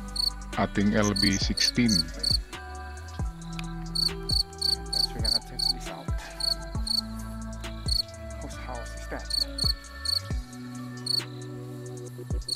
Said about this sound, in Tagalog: Kung narinig nyo ay mga crickets, mga palaka ang maririnig natin dyan na tunog.